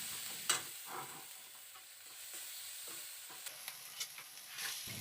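Onion paste and spices are stirred in a cooking pot during a mutton curry, giving soft, intermittent scrapes and a faint background sizzle at low volume, with a few light knocks of the spoon.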